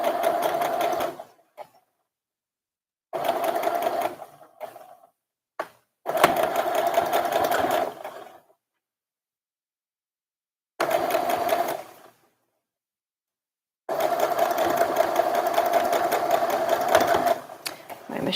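A sewing machine stitches a little girl's dress sleeve, running in several bursts of steady, fast whirring separated by silent pauses, one very short stab in the middle, the last run the longest.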